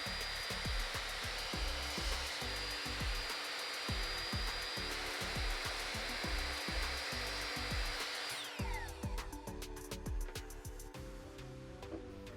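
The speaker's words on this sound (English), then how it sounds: "So I decided to use a miter saw to make this cut." Power saw cutting through a wooden base plate for a wall-mounted sander holder, a loud steady high whine with irregular rubbing and grinding, changing in character partway as the blade works through the wood.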